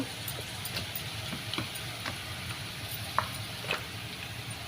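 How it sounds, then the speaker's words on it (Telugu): Onions and ginger paste frying in a pan, a continuous sizzle broken by light scattered clicks and taps of stirring, close and moderately quiet with no voices. "ఉల్లిపాయలు అల్లం పేస్ట్ ఇవన్నీ అయితే బాగా ఎర్రగా వేగాలి"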